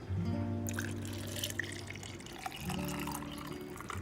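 Hot coffee pours steadily into a cup, a continuous liquid splash and trickle with a rising fill tone, close and clear, with a brief pause midway before pouring resumes.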